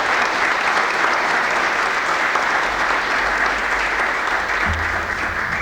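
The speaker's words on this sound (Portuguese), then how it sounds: "pedindo o aplauso, a salva de palmas de todos os presentes" Applause from those present at a solemn parliamentary session on preventing domestic violence, a thick continuous roar of clapping from a large room, steady and loud from start to finish.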